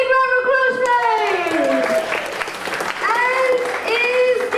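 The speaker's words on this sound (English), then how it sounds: "Give me a round of applause, please." An audience applauds after a magic card trick at a live show, the clapping running steadily under loud voices and tonal calls for the whole stretch.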